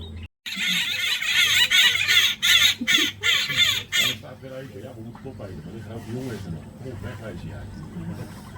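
A dense chorus of harsh, raucous crested barbet calls in Botswana fills the first four seconds, then thins into scattered chattering calls in the background.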